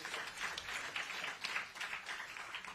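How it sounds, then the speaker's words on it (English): An audience at a literature festival session applauds, a steady wash of clapping at moderate, somewhat distant level lasting the whole stretch, with no speech over it. "I think you deserve a huge round of applause for that."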